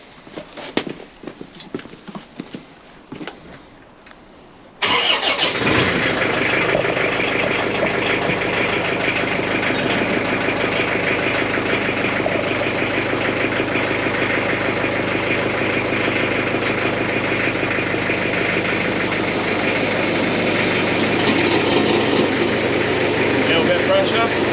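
An engine-driven water pump runs in a flood, starting abruptly after a few seconds of faint background sounds and then droning loud and steady with a rough, knocking mechanical rhythm for the rest of the clip.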